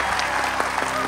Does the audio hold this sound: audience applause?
yes